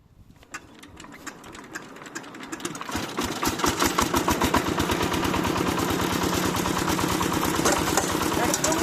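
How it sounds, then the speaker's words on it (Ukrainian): A diesel branch chipper starts from cold. After a few seconds of sputtering cranking, the engine catches and settles into a loud, close, rapid knocking chug that holds steady. "Весь як заводиться на холодну."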